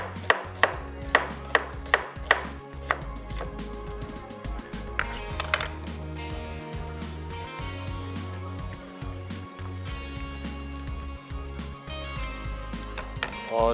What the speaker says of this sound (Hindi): उसके हम प्याज काट रहे हैं